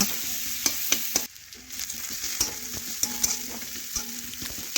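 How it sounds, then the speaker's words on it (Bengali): Finely chopped onions fry in oil in a pan, giving a steady close sizzle broken by sharp clicks and scrapes of stirring. "এখন পেঁয়াজ একটু তেলের সাথে লাল লাল করে একটু ভেজে নেব"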